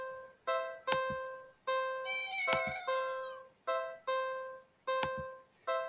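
A cat in a cardboard box at the end of an alley gives a series of repeated meows with short pauses between them, close and clear with no talking.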